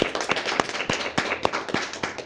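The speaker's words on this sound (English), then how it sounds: "Give yourselves a round of applause." An audience at Take the Night Off, a live evening show, applauds with a dense wash of handclaps and sharper individual claps popping out irregularly, fairly close and steady throughout.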